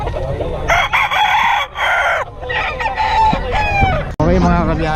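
Many chickens and roosters for sale at a busy market cluck, squawk and crow at once, loud and close, a busy overlapping chorus with faint voices mixed in.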